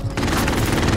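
Gunfire in Call of Duty: Modern Warfare, a dense loud burst of rapid automatic shots filling one brief moment, close and harsh with no clear gaps between rounds.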